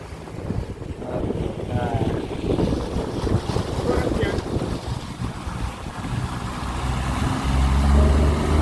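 An aluminium boat runs on a 30 horsepower outboard motor, a steady engine drone under heavy wind buffeting and splashing water, with occasional brief voices.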